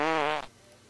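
A cartoon fart sound effect: one loud, buzzy, wavering blast lasting about half a second, then it cuts off to near silence.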